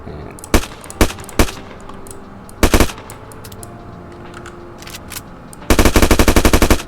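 HK416 rifle fire in the Roblox shooter game: scattered single shots and a short burst, then a rapid full-auto burst at the end, loud and close, with no talking.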